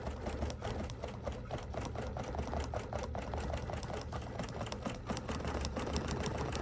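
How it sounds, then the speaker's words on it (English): A sewing machine joins the rows of a cosmic-themed quilt, running in one steady, fast, close mechanical rattle throughout with no pauses and no talking. "then I'm going to sew the rows together"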